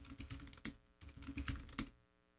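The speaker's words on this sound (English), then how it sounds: "go ahead and type in your new password here" Someone types a new password on a computer keyboard for a Raspberry Pi travel router setup, a quiet close run of quick key clicks in two bursts separated by a short pause.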